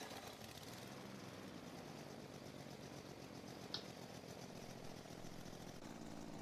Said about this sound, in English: First, you got to start the engine.